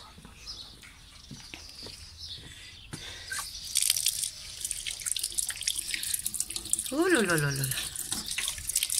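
Hands are washed under a running kitchen tap, with water gushing steadily into the sink at close range while someone talks and ululates over the flow.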